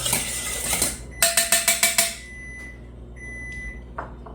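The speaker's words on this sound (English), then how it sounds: "I'm going to use the Danish dough whisk just to whisk it up a little bit" A Danish dough whisk beats an egg in a bowl with a quick run of even, clattering strokes, about six sharp taps in a row, followed by a few thin electronic beeps in a quiet kitchen.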